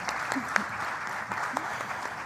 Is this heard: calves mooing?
no